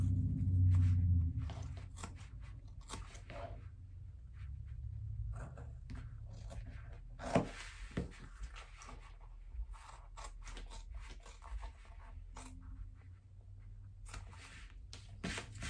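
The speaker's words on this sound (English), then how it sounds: "So I'm just going to cut that out." Scissors cut through fabric for a crossbody bag in quiet, irregular snips and slides, close but faint over a low room hum.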